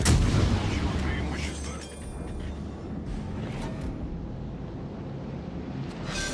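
Naval gunfire from a warship in the World of Warships: Legends naval combat game: a heavy, booming salvo right at the start that rolls into a long rumbling decay over steady wind and sea ambience.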